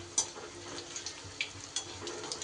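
Pointed gourd fingers fry gently in oil over medium heat, giving faint, scattered crackles and soft pops over a quiet bubbling hiss.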